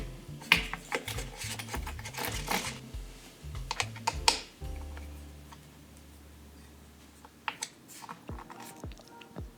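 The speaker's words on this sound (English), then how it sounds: "So now it is time to just click in those Di2 cables front and rear" Di2 electronic shifting cables click into place in a Standert Kreissäge RS bike frame: a close run of small sharp plastic clicks and taps, dense at first, then sparser after a brief low thud, with no talk.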